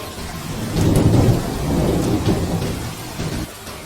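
Heavy rain pours steadily while low rumbles of thunder roll through, loudest early on, in an animated horror story.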